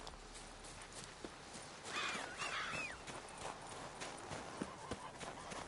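A video game horse's hooves clip-clop at a steady walking pace, faint and even, with a brief whinny-like cry partway through.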